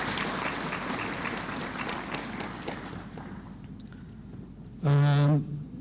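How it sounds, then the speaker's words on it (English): An audience at a ministers' conference opening ceremony applauds steadily for several seconds, then the clapping thins and fades, and a brief loud electronic tone sounds near the end. "So I would like to ask for a round of applause for their presence."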